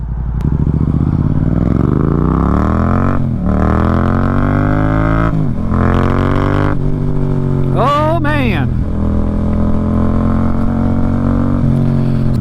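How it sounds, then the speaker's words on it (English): A 2024 MT-07 motorcycle engine roars steadily while riding, its exhaust note rising and falling through gear changes, with a man's brief exclamation over it. "I can get used to that exhaust note."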